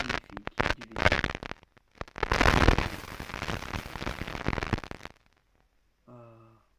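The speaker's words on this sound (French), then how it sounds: "l'explosion magnifique du vaisseau." A spaceship explodes in the video game Modern Combat 5: Blackout, first with sharp crackling pops, then a roaring, sustained blast that cuts off abruptly and is followed by a short electronic tone.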